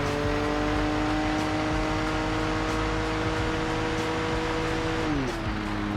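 A racing game car speeding along on nitrous, a steady high engine drone with whining tonal harmonics that hold level and then drop in pitch near the end as it shifts or eases off.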